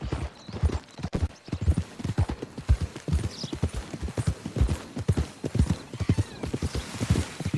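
Steady clip-clop of horse hooves at a trot in Red Dead Online, rhythmic and close, with an occasional whinny and some background chatter.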